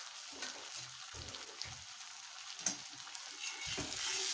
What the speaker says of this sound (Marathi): झाकण काढून पाहते भाजी शिजली आहे का